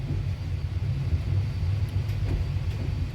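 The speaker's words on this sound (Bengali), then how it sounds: "এইমাত্র ট্রেনটা আবার ছাড়লো নোয়াপাড়া স্টেশন থেকে" Jahanabad Express passenger train pulling out of Noapara station on the Khulna to Dhaka route, a steady low rumble of the rolling train heard from on board.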